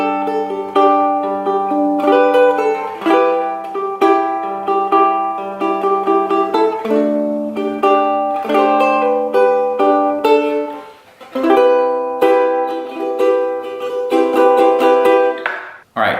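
A guitarist plays the instrumental part of a song, picking steady arpeggiated chords in a clear, moderately loud, flowing pattern with one short gap and no talk.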